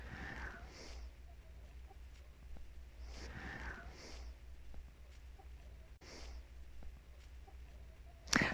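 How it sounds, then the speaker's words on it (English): Free-roaming backyard chickens cluck in soft, scattered bursts, fairly faint over a steady outdoor background hum, with a sharper noise at the very end. "we let the chickens roam free for a good 2/3 of the year"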